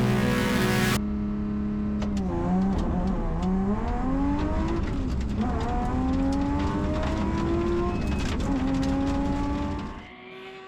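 A Subaru four-wheel drive rally car at a rallysprint on Circle Hill, engine revving and climbing through gears with rising and falling pitch sweeps, fairly close, fading at the end.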